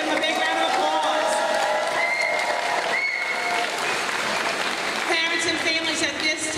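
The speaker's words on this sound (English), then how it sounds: "Let's give them a big round of applause" Audience applause for kindergarten students at an elementary school recognition day, a steady loud wash of clapping from a crowd that holds for the whole stretch, with a few scattered cheers and voices mixed in.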